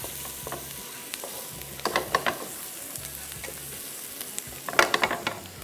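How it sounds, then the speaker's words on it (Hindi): Onion and garlic fry in a pan for tawa keema and mutton hara masala, with a soft steady sizzle and bursts of scraping stirs and clinks clustered near the start and toward the end, with no talk. "ज़हन में रखिएगा प्याज और लहसुन को बहुत ज़्यादा फ्राई"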